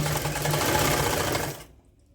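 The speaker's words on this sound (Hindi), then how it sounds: "एक एक हल्का सा हमने पट्टी को खींचकर सिलाई करनी है" A sewing machine runs steadily at close range, stitching a woollen strip for knitted socks, a loud continuous whirr that cuts off abruptly near the end.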